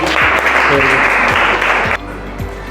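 Children in a classroom clapping together in a steady burst of applause that stops abruptly near the end, with a few sharp claps after.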